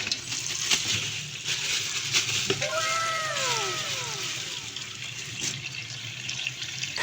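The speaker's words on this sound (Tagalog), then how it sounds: "kailangan din naugasan yung kasag dahil galing nga ito sa dagat at maalat nga ito" Water runs and splashes over seafood crabs being rinsed of seawater, a steady gushing stream with brief clinks and sliding tones, close and fairly loud throughout.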